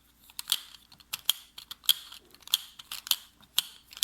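A plastic fidget puzzle toy being twisted and scrambled by hand, giving a string of sharp, close clicks and snaps at an irregular but steady rhythm, alone with no talking.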